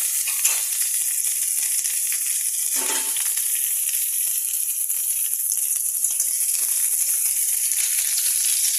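Cauliflower frying in hot oil, a steady bright sizzle running unbroken throughout, with a brief stir or scrape near the start.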